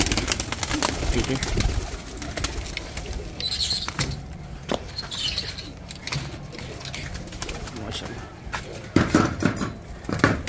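Pigeons coo and shuffle while feeding on scattered grain, a soft steady mix of cooing and pecking with brief quiet speech from a man nearby.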